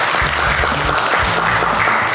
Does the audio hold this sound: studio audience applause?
yes